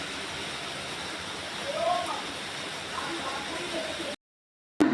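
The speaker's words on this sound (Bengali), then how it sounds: "বৃষ্টি, একদম জোর কদমে বৃষ্টি।" Heavy rain pours down in a constant broad hiss with slight swells, then cuts off abruptly just before the end.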